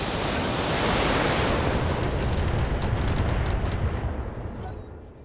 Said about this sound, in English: I'm going to kill that Warhammer first because of the PPCs. Firing all weapons.